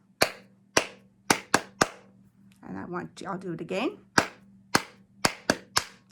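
Sharp hand claps in a short rhythmic pattern, five claps, then a brief stretch of speech, then another group of claps, close and distinct in a music lesson.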